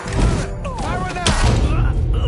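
Gunfire erupts in the video game Mafia III during a firefight, with loud booming shots and thuds under shouting voices and game dialogue.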